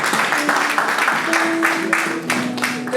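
A church congregation applauds together in steady, dense clapping, mixed with a sustained voice or tones running beneath, loud and continuous throughout.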